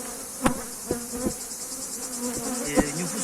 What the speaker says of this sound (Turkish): dikenden arı çalışıyor